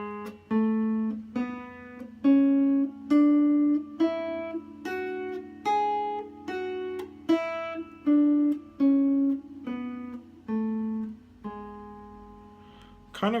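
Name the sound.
guitar playing the Locrian mode scale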